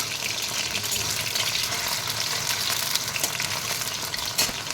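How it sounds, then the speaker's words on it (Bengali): Potatoes dropped into hot oil with black cumin seeds, a steady broad sizzle of frying with faint stirring scrapes, close and continuous, no voices. "এর মধ্যে কালো জিরে দিয়ে দিলাম গরম তেলে, তারপরে আলু দিয়ে দিলাম।"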